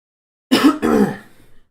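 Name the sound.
coughing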